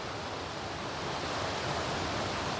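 River water flows steadily beside a house, a continuous broadband rush with no breaks, close and even in level throughout.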